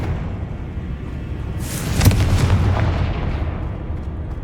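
Confringo spell explosion in Hogwarts Legacy: a single loud, booming blast that swells, then rumbles and fades over a couple of seconds against steady game ambience.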